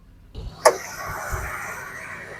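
Ford Explorer 4.0 liter V6 engine, heard up close, catching with a sharp burst and then running at a steady, even idle hum.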